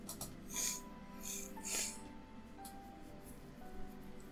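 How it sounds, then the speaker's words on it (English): Three or four sharp nasal sniffles come in quick succession and then a few softer ones, close and fairly loud, over a quiet game soundtrack. "I don't know why I'm sniffling so much"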